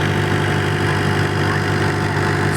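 A large double-decker fishing boat's engine idles with a steady, loud, throbbing low drone that holds unchanged for the whole stretch, with no voices over it.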